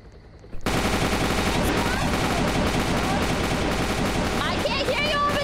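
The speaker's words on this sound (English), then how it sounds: "I can't hear you over the gunshots." Video game gunfire erupts after a brief quiet moment, a loud, sustained barrage of rapid shots and automatic bursts that continues without pause to the end.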